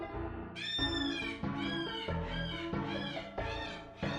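A sick cat meows within a horror video game's scene, layered over a loud, dense musical score with repeated swelling tones; no voices are heard.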